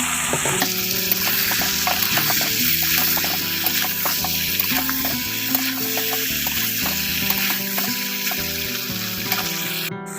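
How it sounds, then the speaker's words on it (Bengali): Chopped tomato frying in a thick spiced masala, a dense steady sizzle with constant scraping stirs and small clinks throughout, close and loud. "আর একটু কষাবো তো এখন একটু টমেটো কুচি দিয়ে দিচ্ছি"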